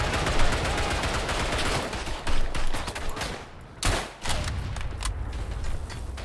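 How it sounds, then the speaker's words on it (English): Grenade blasting close by in a World War One shooter on the Verdun front, a heavy burst landing amid relentless rifle and machine-gun fire, loud sharp cracks and thumps crowding the mix. "That's a grenade somewhere close to me"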